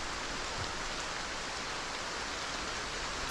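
Heavy rain in the video game Project Zomboid, a dense, loud, unbroken hiss of falling water filling the whole scene without letup.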